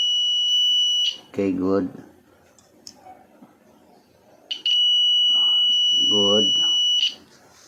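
A DIY electronic components tester testing an NPN transistor gives two long, steady high-pitched buzzer tones, separated by a quiet gap, while someone speaks briefly between them.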